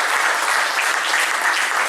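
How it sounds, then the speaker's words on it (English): Audience at a security guard services quarterly awards event applauding for the police department, a loud, close, continuous burst of clapping. "So can we give them a real round of applause?"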